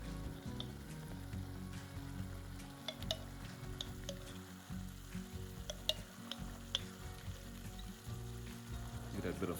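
A kebab marinade sauce with homemade apricot jam simmers and sizzles steadily in a pan, with scattered small pops and stirring clicks, close and moderately quiet.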